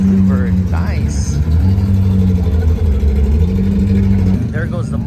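A Mazda RX-3 drift car at a Formula Drift car meet runs with a steady, rumbling engine note close by. People talk over it throughout, and faint higher revving noises appear near the start and end.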